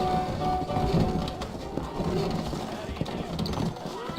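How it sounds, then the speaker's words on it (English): Saddled horses in the video game Red Dead Redemption clop steadily on the ground in a town, with repeated hoof beats alongside birds cooing and voices talking over the scene. "I got the horses saddled up and ready out front."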